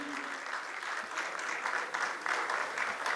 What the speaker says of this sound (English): Everyone, give a huge round of applause.